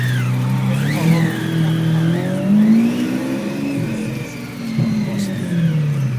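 A Lamborghini Aventador Roadster with an aftermarket exhaust revs loudly and nearby on a São Paulo street, its engine note rising and falling through several sustained throttle swells.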